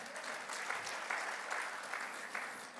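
A church congregation claps during a Sunday worship service, a steady, dense wash of applause filling the room throughout, with no voices above it.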